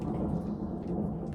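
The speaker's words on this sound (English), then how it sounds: "with that loud ass thunder" Loud thunder rumbling during a rainstorm, a deep, continuous low roll heard as a short unbroken stretch, with rain hiss above it.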